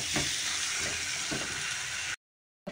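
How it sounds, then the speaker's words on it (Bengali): Potatoes sautéing in a spice paste in a home kitchen, a steady loud sizzle and frying hiss with occasional stirring scrapes, broken by a short silence before resuming. "এবার আমি আলুটা দিয়ে দেবো, আলুটা দিয়ে দিলাম। আর আরেকটুখানি কষবো"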